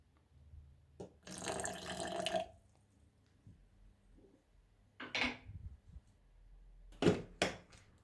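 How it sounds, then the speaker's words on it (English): Water runs briefly from a tap into homemade papaya dressing to thin it, followed by a few short splashes and clinks of kitchenware in a quiet room. "so I'll add some more water"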